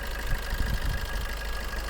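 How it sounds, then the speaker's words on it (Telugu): A 2015 Maruti Swift Dzire car's engine idles with a steady low hum and a faint, even knock-like pulsing, heard close up with no talk. "ఇంజన్ సౌండ్ వచ్చి చాలా నీట్గా"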